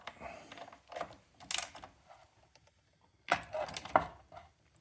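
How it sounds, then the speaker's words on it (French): A main nut on a roller ski binding is tightened with a tool, giving short clicking and ratcheting bursts separated by quiet gaps, close and fairly faint. "Il ne reste plus qu'à serrer notre écrou principal. On en fait un petit bout mécaniquement."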